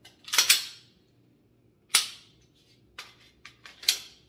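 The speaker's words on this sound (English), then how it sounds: "A lot of dry fire." Sharp, isolated handgun dry-fire trigger clicks, close and crisp, several separate snaps spaced irregularly against a quiet background.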